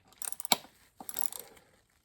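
A hand ratchet tightens fuel rail bolts in two short, quiet bursts of clicking, with one sharper clack between them.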